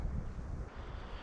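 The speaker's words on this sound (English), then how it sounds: "of course, after the rain now it's super windy" Strong wind buffets the microphone outdoors after rain, a steady low roaring rumble that fills the whole moment with no voices over it.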